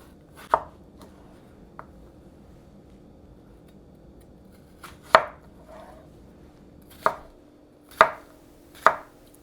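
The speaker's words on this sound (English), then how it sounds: "I like cutting my cucumber into small bite-sized pieces." A knife chops fresh cucumber into small bite-sized pieces on a board for a garden avocado salad, giving a handful of sharp, separate thunks spaced unevenly against a quiet background.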